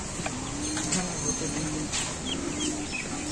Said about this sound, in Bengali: আজকে দেখেন আমাদের চীনা হাঁসের বাচ্চা উঠেছে।